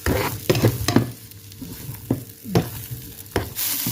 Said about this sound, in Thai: ใช้เนยทอดเห็ดฟางก่อนค่ะ ใส่เห็ดฟางเลยค่ะ ทอดเห็ดกับเนยค่ะ